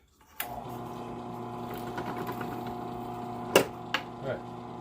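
Drill press starting up and running with a steady whirring hum, close and quiet, as a hole is drilled, with a few sharp clicks and knocks near the end.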